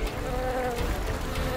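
Golden and silver bees in a Bengali TV serial scene give a steady, close, continuous buzzing drone with no pauses.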